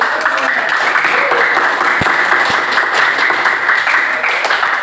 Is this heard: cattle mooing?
no